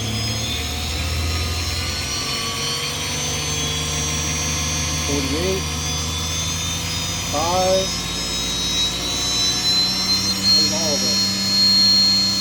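A CNC machine spindle with an upgraded motor runs steadily at 12,000 RPM, giving a sustained, even high-pitched whine with a low hum beneath, while someone talks over it.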